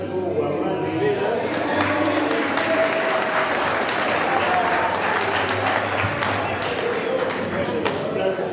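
Dense, sustained audience applause at a graduation for motorcycle and vehicle mechanics students, steady and loud throughout with crowd murmur and voices mixed underneath.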